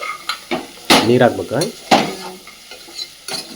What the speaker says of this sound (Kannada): ಎಲ್ಲ ಒಂದ್ಸರಿ ಮಿಕ್ಸ್ ಮಾಡಿ